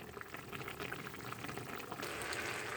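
A covered pot of taro stems and grass carp boils with a soft, continuous bubbling that swells slightly louder near the end, faint and steady with no talking.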